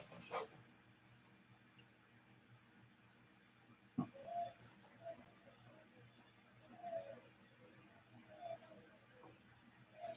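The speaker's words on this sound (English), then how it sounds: "the birds outside are already chirping" Birds call faintly outside in the pre-dawn hours, soft cooing notes repeating at intervals over a quiet room hum, with one sharp knock nearby.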